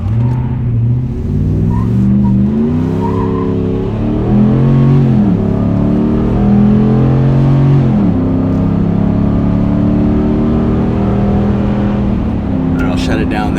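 A RAM 1500 pickup truck with an MBRP replacement muffler roars loudly at full throttle, engine pitch climbing and dropping through several gear shifts, close and sustained.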